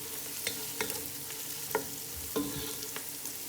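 Turmeric and coriander powder fry with browned onions in a pan for Punjabi masala mutton curry. A soft, steady sizzle runs beneath a handful of distinct spatula scrapes and knocks against the metal.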